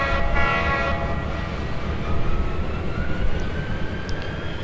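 A train rolls along in the Trainz railroad simulator game, a steady rumbling rush with a horn tone sounding faintly near the start, no voices present.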